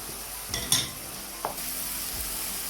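Meat frying in a pan as tomatoes are stirred in for a homemade lasagna sauce, a steady sizzle with a few quick scraping stirs and a clink of the utensil, close and alone.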